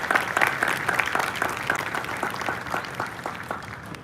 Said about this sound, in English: Please join us in a round of applause to all these cadets and their outstanding achievement.